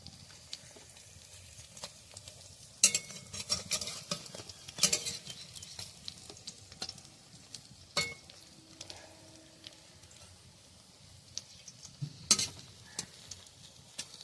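Helencha greens fritters fry on a village wood-burning stove with a soft, low sizzle. Scattered faint crackles and pops are joined by occasional sharper clicks over a long, quiet stretch.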